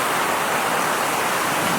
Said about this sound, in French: et là c'est vrai qu'il pleut